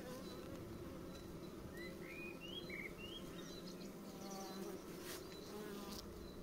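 Honey bees buzz steadily around a Kenyan top-bar hive, a dense continuous hum close by, with faint bird chirps in the background and no talking.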